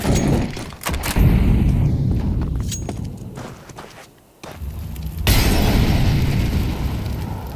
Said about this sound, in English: Nade out from the window, softens up Robs.